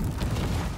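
A ship's cannon booms in Sea of Thieves during a brigantine fight, a dense, loud, low rumbling blast filling the short moment with no talk.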